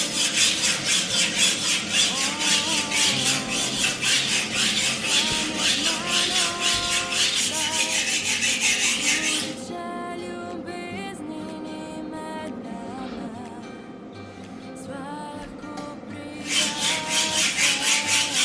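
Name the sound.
knife being sharpened by hand on diamond plates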